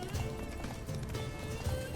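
Roach, Geralt's horse in The Witcher 3, gallops at a fast rhythmic clip-clop, hooves pounding steadily and loudly close up, with game ambience around them.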